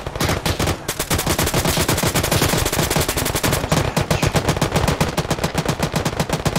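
Loud, rapid machine-gun fire from the video game Arma 3 rattles continuously in dense, sustained bursts, close and with no talk over it.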